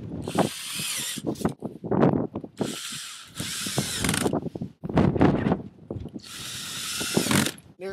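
A power drill drives a screw into a piece of a cardboard solar oven box prototype, sounding in several loud bursts of whirring between pauses.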